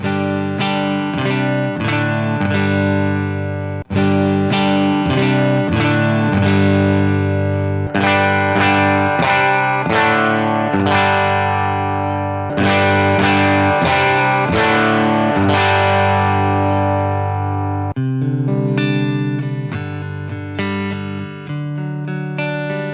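An electric guitar plays chords and picked riffs through a Fender Bassman amp model with '63 Bassman Oxford cabinet IRs, a warm, slightly overdriven tone, loud and continuous with no talking.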